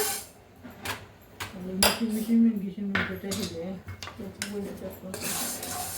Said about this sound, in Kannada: ಇವಾಗ ಮೆಂತ್ಯ ಹಾಕ್ತಾ ಇದ್ದೀನಿ ಮೆಂತ್ಯ ಉರಿಯನ